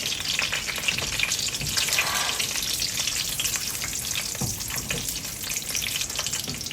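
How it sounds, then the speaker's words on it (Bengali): Chopped onions hit hot oil flavored with whole garam masala, crackling in a loud, steady sizzle close up with occasional stirring knocks. "একটু গরম মশলার ফ্লেভারটা ছেড়ে আসলেই দিয়ে দিব পেঁয়াজ কুচি করে রাখা পেঁয়াজ"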